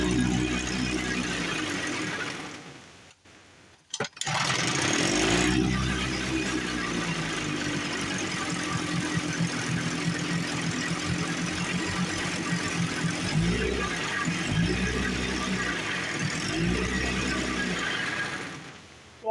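A rebuilt 15-18 HP outboard motor runs steadily with a loud, near engine drone, breaking off briefly early on, then settling into rhythmic surging pulses before cutting out near the end.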